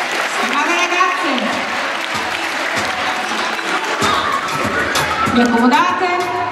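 A crowd applauds gymnasts at an artistic gymnastics competition in Monticello Brianza, with sustained clapping throughout and an announcer's voice heard over it.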